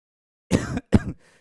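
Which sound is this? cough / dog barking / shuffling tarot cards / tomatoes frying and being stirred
cough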